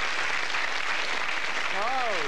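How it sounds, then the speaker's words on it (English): Studio audience applause on a late-1980s British television quiz show, a dense, steady clatter of clapping throughout, with a voice rising over it near the end. "Well, they deserve a round of applause for that, don't they?"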